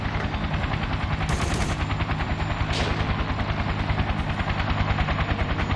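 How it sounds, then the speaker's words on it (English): Helicopter rotors thump in a steady, rapid chop in the war video game Battlefield 2: Modern Combat. Bursts of gunfire overlap the rotor noise throughout. "Rotors inbound, hostile."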